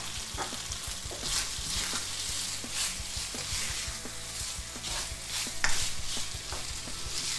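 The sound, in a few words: garlic and chilies frying in a pan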